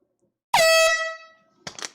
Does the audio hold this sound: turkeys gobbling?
no